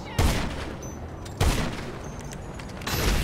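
Three loud, booming sniper rifle shots from GTA 5 gameplay ring out about a second and a half apart, each with a sharp crack and a rolling echoing tail.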